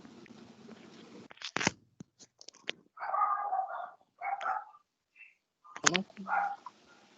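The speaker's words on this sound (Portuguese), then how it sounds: "Estou escutando uns cachorros." A few dog barks sound from a distance during a live online class, in short bursts separated by quiet stretches, clicks and handling noise.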